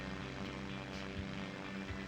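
A bush plane's propeller engine drones in SimplePlanes VR during low-altitude flight, a steady, even buzzing hum with a low throbbing undertone, constant and moderately quiet throughout.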